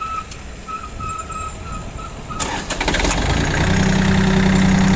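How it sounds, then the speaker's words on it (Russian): A Yanmar F195 mini tractor engine cranks, catches and settles into a steady, rumbling idle that carries on loudly after the start. "Давайте запустим трактор, посмотрим, как работает."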